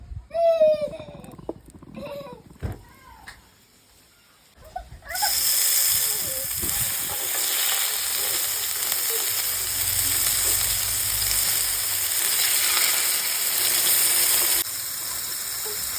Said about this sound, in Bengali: এবার চলো চিকেনটা ফ্রাই করে নেব